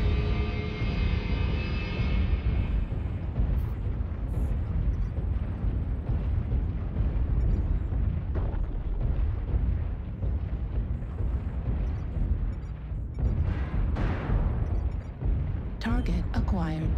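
Booming artillery strike blasts in the mech combat game MechWarrior Online roll together into a continuous heavy rumble, with a fading tonal engine hum early on and sharper impacts near the end.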